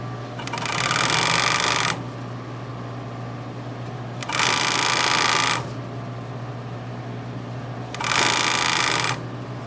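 Sewing machine stitching a zipper into a small fabric pouch or bag, heard in three loud steady bursts of roughly two seconds each separated by pauses, over a constant low hum.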